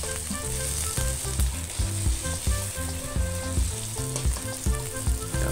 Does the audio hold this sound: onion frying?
yes